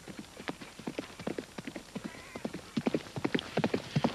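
A horse runs in quick, uneven hoofbeats that clop steadily and close by, growing a little louder toward the end.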